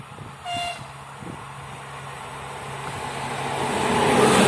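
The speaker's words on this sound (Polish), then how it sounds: "Wjeżdża pociąg Regio relacji Szczecinek, Szczecin Główny" A Regio passenger train pulls into Szczecin Dąbie station, giving a short horn toot near the start before its rumble and rail noise swell steadily louder as it draws close. No voices.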